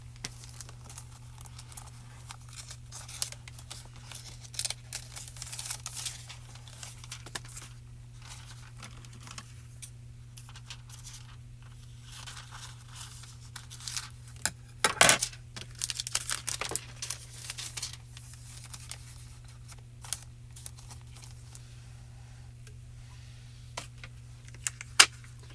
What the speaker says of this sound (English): We have a little piece of foil we can grab here.